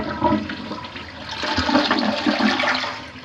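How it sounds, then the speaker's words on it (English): A household commode in a Fort Worth home with a faulty flush runs through a loud, close flush, water rushing and gurgling unevenly as it swirls and drains. "This commode does not flush right."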